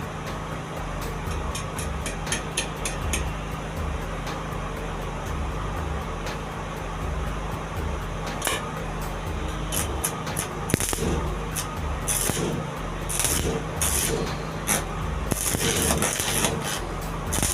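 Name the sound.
welding with a homemade welding machine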